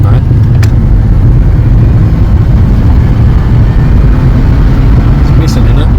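Freshly rebuilt Holden VT Clubsport engine idling slightly rough and running rich, a loud close continuous low rumble with an uneven, missing beat and faint voices over it.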